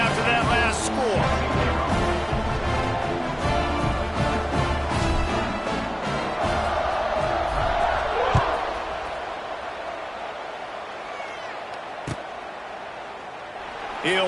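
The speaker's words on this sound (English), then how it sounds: "this crowd is buzzing after that last score" A stadium crowd at an American football game keeps up a steady, dense roar in the final period, with occasional thumps, while a commentator talks over it.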